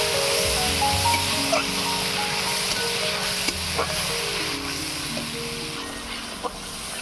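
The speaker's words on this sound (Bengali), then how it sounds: "এবারে মশলাটা কষিয়ে নেব" Spice paste of coriander powder and chilli powder with a splash of water fries and is stirred in a pan for potol korma, a steady close sizzle running throughout with a few soft scrapes of the spoon.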